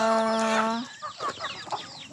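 A chicken on a farm lets out a drawn-out call, followed by a few short, close clucks from the flock.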